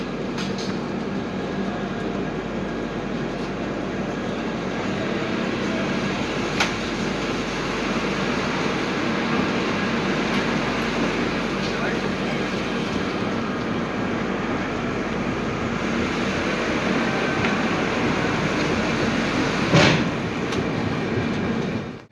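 Kanchankanya Express, a passenger train out of Kamarkundu bound for Bardhaman, rolling steadily along the rails with a continuous broadband rumble and faint rhythmic clatter, heard from inside the coach, with one brief louder knock near the end.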